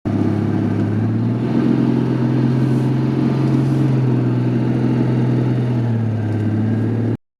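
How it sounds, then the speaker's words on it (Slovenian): A 1974 Citroën 2CV idling and pulling out of a garage, its small air-cooled engine giving a steady loud buzzing drone with a slight rise in pitch partway through, close by and alone until it cuts off. "Njegov 2CV, letnik 1974, je komaj čakal, da ga lastnik odpelje iz garaže."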